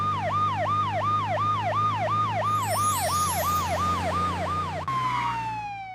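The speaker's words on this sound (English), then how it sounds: "fire truck." A fire truck siren sounds loud and near in a quick repeating wail, its rising and falling cycles holding steady over a low engine drone before the tone shifts and fades away at the end.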